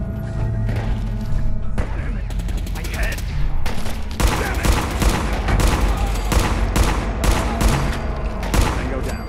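Rapid gunfire from a weapon in the video game Fallout 4, loud close shots in quick repeated bursts and volleys with heavy thuds, continuing throughout.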